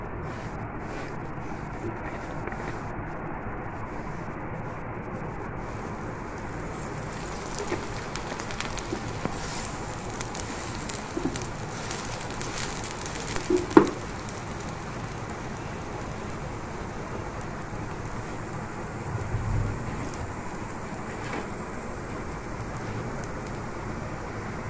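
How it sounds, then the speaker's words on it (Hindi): Bread frying in oil in a pan, a steady soft crackling sizzle that runs throughout, with a couple of brief clatters partway through. "इसको हल्का सा फ्राई करने के लिए ऑयल डालूंगी।"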